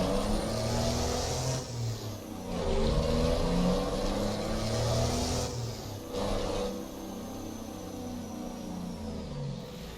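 Show truck engine in American Truck Simulator or Euro Truck Simulator 2 drones steadily while driving, a low rumbling hum with two brief dips as gears or throttle shift, with no talk.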